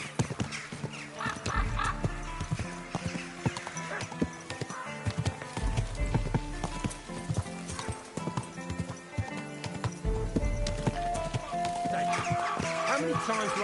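Horse hooves clip-clopping in the medieval video game Kingdom Come: Deliverance II, steady hoofbeats under game music with occasional whinnies and farmyard chicken clucks in the background.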